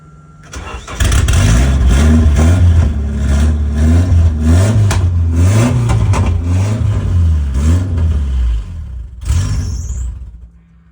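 A Nissan 240SX project car engine cranks and catches, then runs loudly with an uneven, lumpy idle and occasional revs for several seconds before shutting off near the end.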